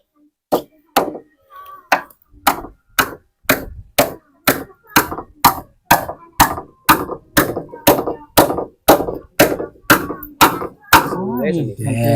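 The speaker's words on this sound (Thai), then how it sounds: "โอเค ตอกเลย" Sharp, evenly spaced hammer blows strike roughly once per half second at close range, about twenty hits in a row, on a house construction job where a crew works together, with a few brief voices in between.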